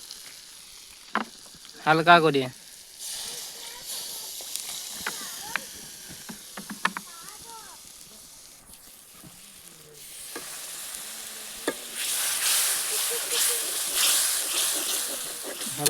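Chicken kosha masala in an outdoor pan sizzles as water is added, a few sharp crackles and stirring clatters giving way to a louder, sustained steamy hiss near the end, with a brief spoken phrase partway through.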